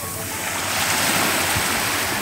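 Ocean surf washing onto a beach at Key West, a broad steady roar that swells slightly in the middle, close and continuous with no voices.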